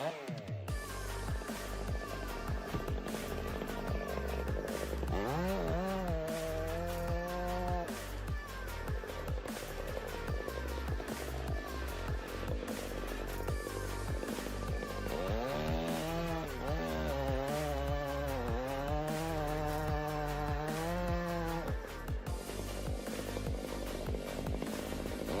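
A chainsaw fells a 230-foot Douglas fir, its engine droning loud and steady throughout, rising into long, high revving surges as the chain bites into the wood.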